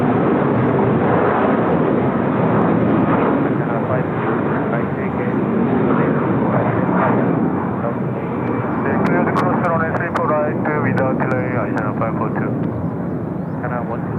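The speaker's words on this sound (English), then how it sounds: "Listen to this beautiful aircraft." A heavy jet airliner in Universal Studios livery, bound for Xiamen, rolls for takeoff at Seoul Incheon Airport, its engines a loud, sustained roar throughout, with brief voices in the foreground near the end.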